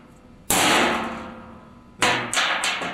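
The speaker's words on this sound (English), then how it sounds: "Run along, centre punch, hammer on each mark," A hammer strikes a centre punch on a car floor pan, each blow a sharp metallic crack with a ringing tail: one hit, a pause, then three quicker strikes.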